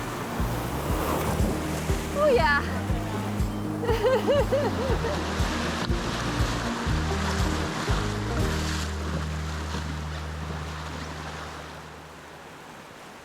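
Waves and rapids of the Snake River during a rafting trip, a steady rushing wash of water throughout with wind buffeting the microphone, while people talk and exclaim over it early on.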